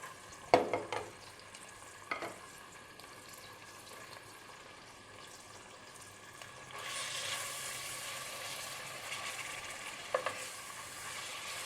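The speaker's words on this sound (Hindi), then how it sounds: "सबसे पहले चिकन इसलिए डाल रही हूँ ताकि चिकन को पहले हम भून लें" Chicken pieces fry in hot oil in a pan for pasta, a soft sizzle punctuated by a few sharp utensil clinks, and the frying swells louder and fuller partway through.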